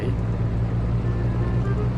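A tractor engine drones steadily in Farming Simulator 19 as a trailer is hauled out of mud, a low, constant rumble with a voice talking over it.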